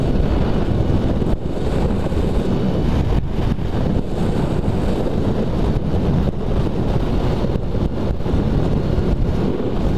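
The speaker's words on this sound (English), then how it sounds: "It's a little windy, but it's definitely a really good day to ride." Strong wind roars and buffets the microphone throughout an outdoor ride on a windy day. The rushing is loud and continuous, with no talking.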